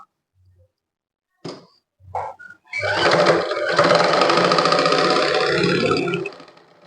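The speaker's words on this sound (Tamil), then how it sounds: "இப்போ நம்ம ஸ்டிச்சிங் பண்ணி பார்த்துடலாம்" A sewing machine runs steadily for a few seconds after some brief knocks as it is threaded, testing stitches on a machine that leaves loose loops underneath, loud and close with no talk.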